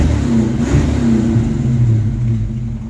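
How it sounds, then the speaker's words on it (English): A Mustang V8 fitted with a new Edelbrock ignition coil runs with a deep, steady engine rumble, close and loud, rising slightly in pitch as it revs up and then settles back. "Let's see if it revs."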